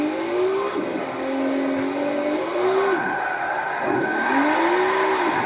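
Car engine revving up and down repeatedly in an Xbox One racing game, the pitch sweeping high then dropping in several surges over a steady loud drone, with no talking.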